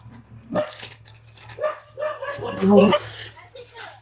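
Dogs bark and yip repeatedly in uneven bursts, some close and loud, over a steady low hum with faint background noise.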